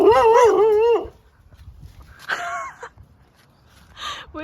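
Dogs bark and yip loudly up close, then give a few fainter, scattered barks and whimpers after a pause.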